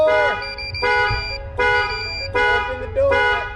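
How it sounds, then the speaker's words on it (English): Car alarm on a 2019 Ford Transit van blaring in four loud, evenly spaced bursts of a harsh, steady two-tone honk, close by, with short pauses between blasts. "Alarm!"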